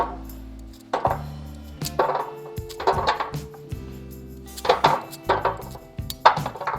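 Carrots roughly chopped beside a roasting pan, a series of close knife knocks and clinks on a hard surface in an irregular rhythm, with no talking.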